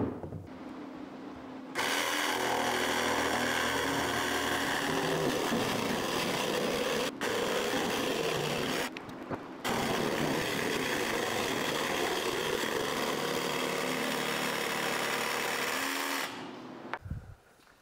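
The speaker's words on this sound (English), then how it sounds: "we'll use the flush bit to ride along our curved piece, and we'll get a nice clean edge that's perfect" A router fitted with a flush trim bit cuts along the curved wooden edge of a barn door opening, making a steady high whine. It is broken by a brief pause midway and stops near the end.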